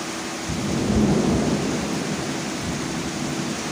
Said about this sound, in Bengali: যে পরিমাণ ঝড় উঠেছে আমার তো ভয় করছে